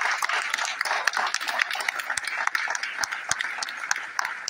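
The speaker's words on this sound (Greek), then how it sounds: "Ένα θερμό χειροκρότημα" Warm applause from an audience at a memorial bus-handover ceremony for Alkis Kampanos: dense, steady clapping that holds for several seconds, fairly close, with no talking over it.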